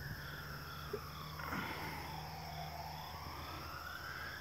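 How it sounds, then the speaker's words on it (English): An emergency vehicle siren wails in the distance near a river in Morrow, Ohio, a faint, slowly rising and falling tone over steady outdoor background noise. "Sorry guys about the siren."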